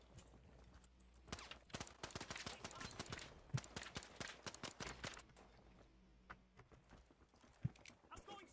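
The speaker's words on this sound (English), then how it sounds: "I like that there's actual recoil to the guns." Rapid bursts of video-game gunfire with recoiling weapons during aim practice in a playtest shooter, dense volleys in the first five seconds and then sparser isolated shots, heard alongside speech.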